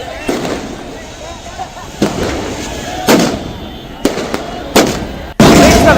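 Fireworks bang at street celebrations of India's World Cup win, a series of loud sharp bursts at irregular intervals over a noisy crowd background, the last blast loudest and sustained.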